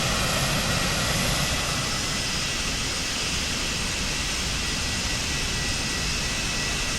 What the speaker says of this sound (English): Listen to the engine start.